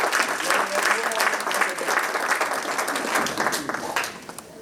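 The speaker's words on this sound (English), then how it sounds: "Please give them a big round of applause" An audience at a commemorative event at the US Capitol applauds, a dense burst of clapping that holds strong for about four seconds and then thins out and fades.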